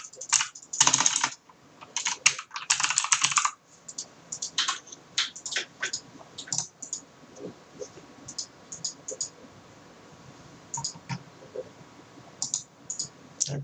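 Someone types on a computer keyboard while setting up English input on Windows 10 Chinese Government Edition, with a dense flurry of close clicking keystrokes early and then scattered, irregular key taps.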